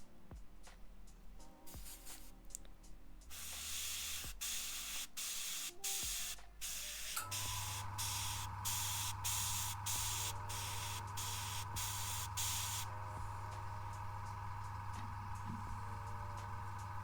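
Airbrush spraying paint onto a Kingdom Death miniature in short hissing bursts at first, then a longer steady spray with a compressor hum underneath, close and clear.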